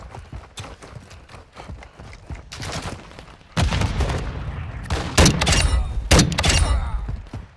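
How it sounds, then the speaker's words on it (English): Gunfire in the Call of Duty DMZ video game, rapid bursts of shots and impacts crackling close and loud over a busy game mix, growing heavier in the second half. "We got gunshots coming from up ahead here too"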